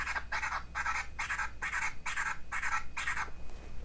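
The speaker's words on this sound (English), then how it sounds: "And this is the 2-click flare right here." Two-click flare scratching on a Pioneer Rev-1 DJ controller: eight evenly spaced, chopped scratch bursts in a steady rhythm, each cut off crisply by the crossfader, loud and close with no talking.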